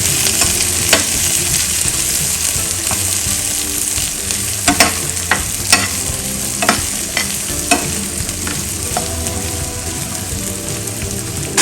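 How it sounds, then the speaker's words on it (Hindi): Butter chicken masala with cashews gently fries over low heat, a steady close sizzle with spatula scrapes and taps against the pan recurring through the middle, no voices. "इसको धीमी आंच में करके हम थोड़ा से मसाला को भून देते हैं"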